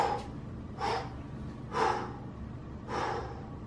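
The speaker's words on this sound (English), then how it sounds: "There's your extra exhale." Forceful exhales during kettlebell power snatches, four sharp breathy bursts spaced about a second apart, close and fairly quiet, with no talking.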